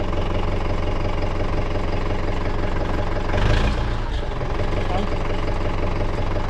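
A Kubota tractor's diesel engine runs steadily nearby, a continuous low rumble with a brief louder surge midway, while people talk at times over it.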